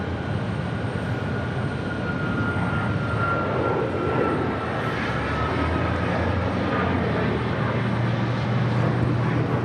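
A JetBlue Airbus A320 in NYPD livery departs JFK, a steady broad jet engine roar sustained throughout, moderately loud and distant with constant rumble.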